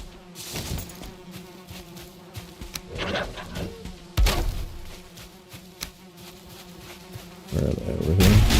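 A bee buzzes in a video game as a steady, droning hum that swells and fades, broken by a few louder bursts of other game sounds.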